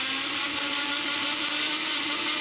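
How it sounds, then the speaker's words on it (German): A kitchen blender runs continuously at full speed, a loud, steady high-pitched whir with a constant motor hum throughout, no pauses or voices. "jetzt probieren wir das mal hier mit dem Mixer."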